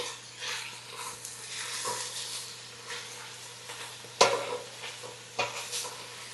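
Italian sausage frying in a pan while being stirred, a continuous sizzle with scraping spoon strokes and a couple of sharper knocks against the pan, no speech.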